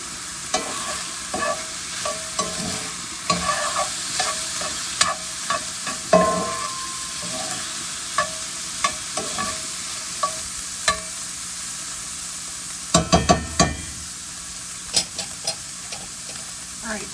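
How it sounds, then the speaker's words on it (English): Chopped onions and a pound of ground beef stirred and fried in a pan for Tex-Mex enchiladas: a steady background sizzle is punctuated by a regular series of spatula scrapes and taps, with a brief louder clatter of stirring near the end. "so now we're going to add some onion"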